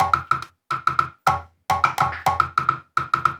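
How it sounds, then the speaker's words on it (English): Afro-style percussion loop with bright, clicky hand-percussion hits in a bouncy, syncopated groove, grouped in short bursts with brief gaps, sounding close and alone. "The percussion sounds this way."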